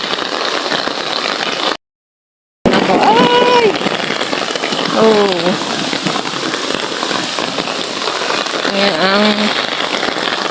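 Steady rain patters and hisses loudly and continuously, with a short silent gap and voices speaking over the downpour at times.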